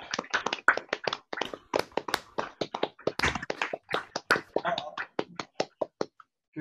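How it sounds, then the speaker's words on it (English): Small audience at a folklore talk gives a brief round of applause: a few people clapping in irregular, fairly close, distinct claps that thin out toward the end, with quiet voices mixed in. "we ought to have a little bit of applause, Caroline is suggesting."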